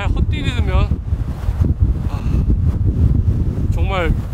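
Strong wind gusting across the snowy Seonjaryeong ridge in winter, a loud, steady roar with buffeting microphone noise throughout, while a person briefly speaks at the start and end.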